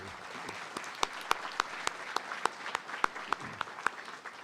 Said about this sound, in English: please give them a round of applause of appreciation for the work they do